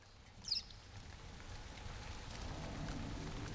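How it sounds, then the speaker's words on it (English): Rain patters softly in the video game Pit of Babel, a faint, steady hiss of falling drops that builds slightly, with one brief louder splash near the start. "It's raining."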